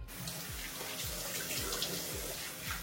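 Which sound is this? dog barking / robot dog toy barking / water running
water running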